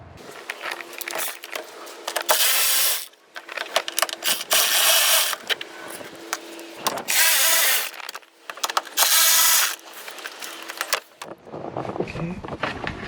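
Bolts holding the radiator shroud on a 2001 Toyota Tacoma are worked loose with a ratchet, producing repeated loud bursts of rapid clicking separated by short pauses and shuffling noises.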